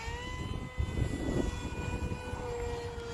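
A Hobbyzone Aeroscout S 1.1m RC model plane's electric motor whines with a steady high tone and overtones that slowly bend in pitch as it flies, over rough wind buffeting and rumble, with no voices.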